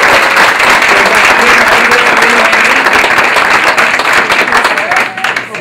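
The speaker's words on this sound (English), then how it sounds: "can everyone give a round of applause to the Bazaar Host folks for hosting us?" Loud, sustained audience applause at a social media club meetup, dense clapping with some voices audible underneath, fading slightly near the end.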